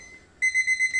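The timer alarm on a manual packaging air leak tester sounds a rapid run of about five sharp, high electronic beeps, loud and close after a quiet moment.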